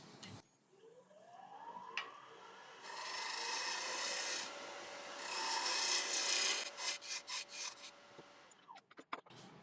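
Spindle roughing gouge cutting Irish walnut spinning on a wood lathe, a sustained scraping rasp that swells for several seconds, then breaks into short repeated strokes before stopping, heard close with a faint motor hum underneath.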